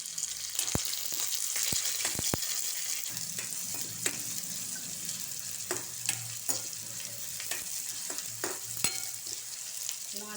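Chopped onion and curry leaves frying in oil in a kadhai for crab masala, a steady sizzle with sharp clicks and taps of a spoon stirring throughout, fairly quiet and with no talking.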